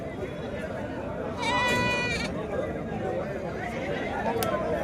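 Male goats at the Chillakallu livestock market in Andhra Pradesh let out a short burst of nasal bleating, one loud cry near the middle, under people talking and the general chatter of the market.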